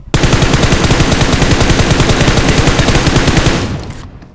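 Rapid automatic gunfire from a winter-themed video game fills the clip, a loud, dense, unbroken burst of shots lasting about three and a half seconds before trailing off, with no talking.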